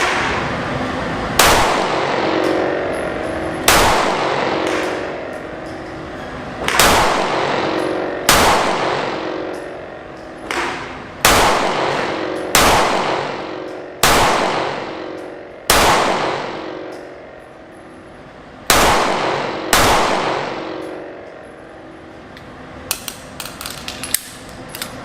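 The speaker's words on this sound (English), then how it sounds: "check out some of the shooting footage of this pretty sweet gun" Smith & Wesson Shield Plus 9mm pistol fired outdoors at a steady, deliberate pace, about a dozen loud, sharp single shots each trailing a short echoing decay, with no talking.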